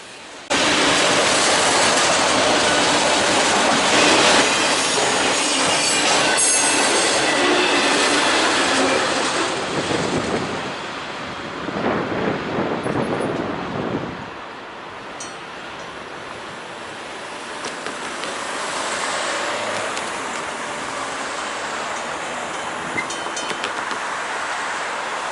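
A Norfolk Southern transfer freight train rolls past loudly with a broad rushing roar and rattling wagons, then fades into a quieter continuing rumble.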